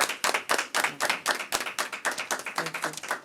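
Audience at a board meeting breaks into applause, a steady patter of many hands clapping at close-to-moderate distance with no talk over it.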